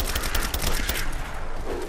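Rapid automatic gunfire rattles in the video game Rise of the Tomb Raider, a loud dense burst of shots pouring out nearly a full magazine, with no voices over it.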